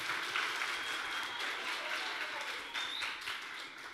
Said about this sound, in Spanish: Un aplauso para Isabel.